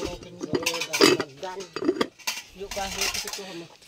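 A cooking pot and plates are handled, with clinks and knocks of metal and dishware scattered through the clip, mixed with people talking nearby.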